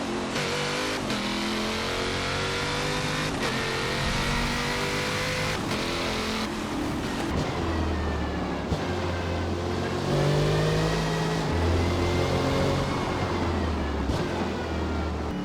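A race car engine revs and shifts while lapping the Nürburgring Nordschleife in the Forza Motorsport video game, rising and falling tones with gear changes, loud and close, with no talk.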